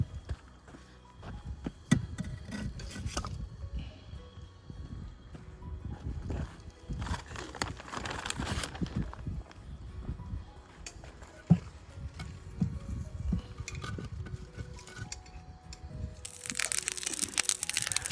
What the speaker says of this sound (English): let's put some more firewood here.